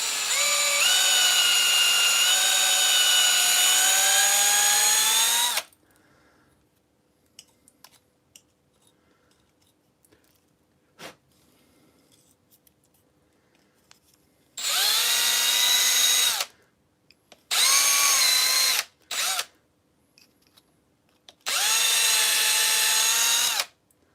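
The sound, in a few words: power drill drilling out holes for M3 bolts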